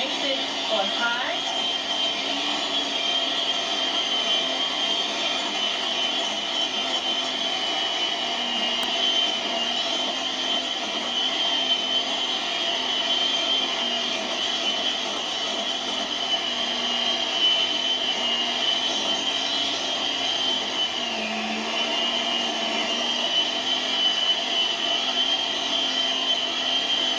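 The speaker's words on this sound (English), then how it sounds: "As you can see, I have like a cheap blender or mixer." A cheap blender runs on high for a long stretch, a continuous whining motor hum whose pitch sags and recovers slightly as it mixes.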